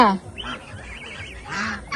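Domestic geese honk in a few loud, nasal calls close by, one burst at the start and another near the end, with quieter cackling between.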